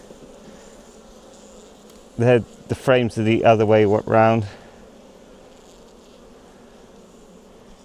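Honey bees buzz around an opened hive, a soft, steady drone in the background throughout, with a person speaking briefly in the middle.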